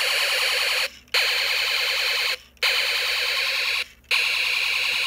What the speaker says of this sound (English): now the LEDs light and flash while the speaker makes a weird sound